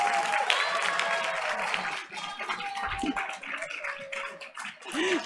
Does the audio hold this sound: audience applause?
yes